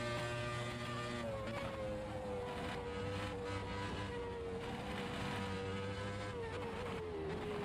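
A Formula One race car engine with traction control in the racing game Automobilista 2 drones steadily at high revs, its pitch holding then slowly dipping, with a constant gritty roar and no voices.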